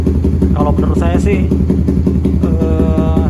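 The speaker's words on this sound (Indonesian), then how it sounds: "ini adalah suara dari putaran stasioner knalpot Proliner yang silencer tipe pendek." A Suzuki GSX-R150 motorcycle with a short-silencer Proliner exhaust idles steadily and close up, its even low throb continuing throughout under a man's speech.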